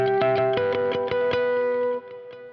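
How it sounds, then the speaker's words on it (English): An electric guitar run through effects plays a fast sweep-picked arpeggio, a quick cascade of bright, sustained distorted notes rippling across the strings, loud and close, then settling into a ringing tail. "If I almost try to follow the strings like this with a sweep picking arpeggio and then do something like"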